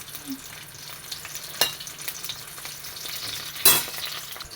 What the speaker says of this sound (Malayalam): വെള്ളം ചെറുതായിട്ടുള്ളതുകൊണ്ടൊന്ന് പൊട്ടിത്തടിക്കുന്ന പോലെയുണ്ട്